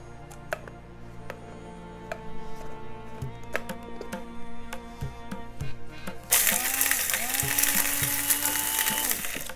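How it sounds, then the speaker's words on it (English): Roasted whole spices for achari chicken being crushed coarsely by hand, giving sharp irregular cracks and crunches close by, with a louder gritty grinding burst toward the end. "We need to crush these spices"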